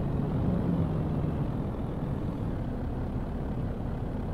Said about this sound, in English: This engine is not pulling this weight up this hill.